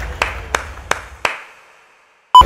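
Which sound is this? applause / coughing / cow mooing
applause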